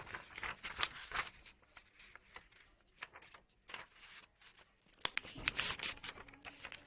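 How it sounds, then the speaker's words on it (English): A rectangular sheet of paper is handled and folded, giving a series of crisp rustles, crinkles and sliding rubs in irregular bursts, fairly close, with a louder flurry of crumpling near the end. "Now teacher is going to fold this paper."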